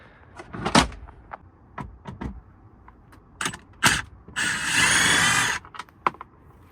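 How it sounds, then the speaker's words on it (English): Bolts being unscrewed on a Kenworth T680 truck during blower fan replacement: a string of sharp clicks and knocks, then a loud sustained power-tool whir of about a second, followed by a few more taps, close by with no talk. "we need to unscrew this bolt, and plus we need to unscrew this one, that one, and this one."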